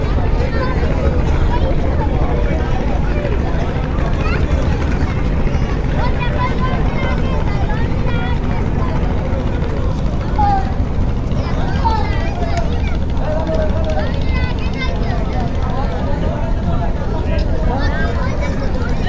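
Passenger launch Parabat 11 runs on the river near Barishal with a loud, constant engine drone and water rush, joined by a background babble of voices throughout.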